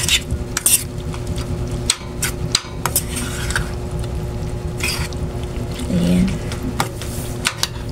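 Anchovy and onion mixture for boneless dilis omelette being stirred in a bowl, with scraping and clinking of a utensil against the bowl in repeated sharp taps over a steady background hum; a voice talks at points.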